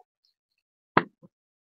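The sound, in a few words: eggplant seeds added onto onions frying in hot oil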